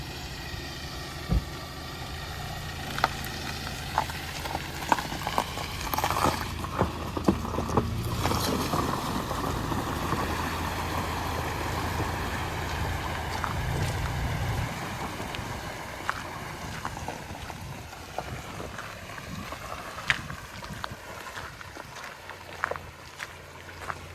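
A tractor drives through a waterlogged, flooded field during late-year ploughing, its engine droning steadily under sloshing, rushing water and splashes, with occasional knocks and bumps throughout.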